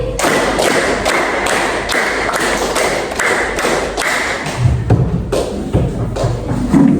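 Students in a seventh-grade classroom clap in unison through the 'tepuk 5' rhythm twice over, producing crisp, regularly spaced claps, loud and near, that thin out toward the end as a few voices come in.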